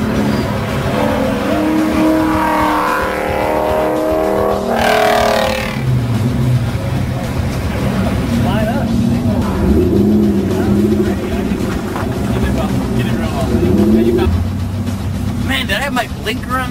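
A Corvette lapping a race track, its engine droning loudly from inside the car, rising and falling through corners with a brief surge of acceleration, while people talk over it.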